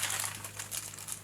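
Crinkling of plastic shopping bags, a soft, continuous rustle close by, fairly quiet, with a steady low hum underneath and no talk.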